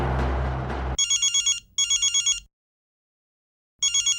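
A telephone gives a crisp electronic ring in two short trilled bursts, pauses, then starts a third burst, loud and close, right after a louder passage of other sound.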